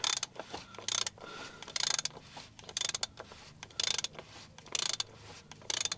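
Ratchet wrench winding off the oil drain plug of a Vauxhall Vivaro van during an oil change, heard as repeated bursts of rapid close clicking separated by short pauses, with no voices.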